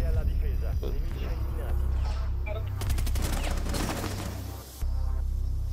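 Gunfire in an online shooter game, a dense rolling fusillade of rapid shots with bursts that sound like automatic weapons, loud and continuous over game noise for several seconds.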